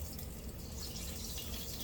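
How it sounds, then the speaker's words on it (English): Tap water running steadily into a sink while cooking cherry fried pies, a soft continuous broadband hiss and gush close by, unbroken for the whole stretch with no talking. "you barely have your water running"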